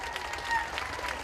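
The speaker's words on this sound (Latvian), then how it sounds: "Nu, vēlreiz sirsnīgi aplausi" Audience applause at a Latvian stage show, a short burst of steady clapping from the crowd with a faint voice underneath.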